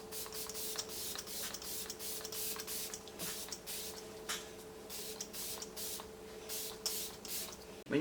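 Hairspray hisses from an aerosol can in a series of short, repeated bursts during a soft glam makeup routine, fairly close with a steady low hum underneath.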